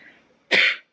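A single sharp, close cough bursts out after a near-silent pause and cuts off quickly.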